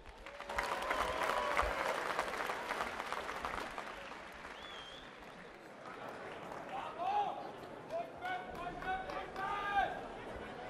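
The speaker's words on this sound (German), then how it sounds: "Auch der bekommt einen Applaus." Audience applause for a boxing referee at a women's bout, broad and steady crowd clapping with some chatter, easing midway, while an announcer speaks over it.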